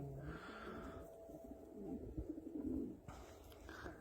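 Pigeons, kept domestic tumbler or play birds, coo in a low rolling rhythm, several overlapping calls close by and moderately loud throughout with a brief break near the end.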